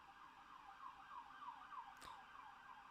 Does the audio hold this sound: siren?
yes